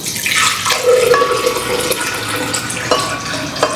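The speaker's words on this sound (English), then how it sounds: "I'm gonna put a little bit of water and see" Water is poured in, a close, loud splashing stream that starts at once, then runs on with gurgles and a few sharp drips.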